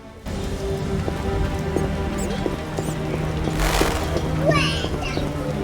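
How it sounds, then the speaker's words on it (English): Steady rain falls in the video game The Witcher, a constant hiss filling the scene while faint clopping and low ambient tones sit underneath, with no voices heard. "It's really raining."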